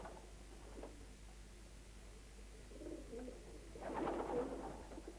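Pigeons in a loft give soft, low cooing calls, a brief coo near the start and a fuller burst of cooing toward the end, over steady background noise.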